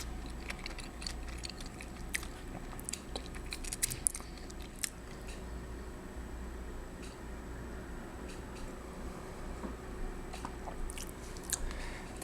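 Someone whispers while eating a doughnut, with soft close-up bites and moist chewing clicks scattered irregularly across the quiet.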